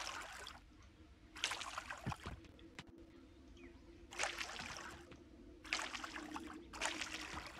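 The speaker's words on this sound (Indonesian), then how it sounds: "Terus kita siram." Water splashes from a watering can onto turnip crops in the farming game Coral Island, in four short, soft pouring bursts separated by pauses, over a quiet low background hum.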